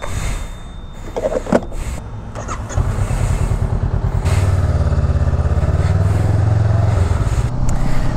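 A Honda Rebel motorcycle engine runs steadily up close, a low throbbing idle that grows louder and fuller after a few seconds, with some brief clicks early on.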